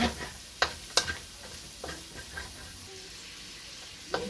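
Onion goes into a pan with garlic for spaghetti carbonara, with a soft steady sizzle under scattered scraping stirs and spoon taps against the pan, fairly quiet and close.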